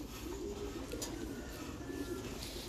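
Thai pigeons coo softly inside a pigeon farm, a low steady murmur of several birds mixed with faint chirps and a constant background hum, fairly quiet and without talk.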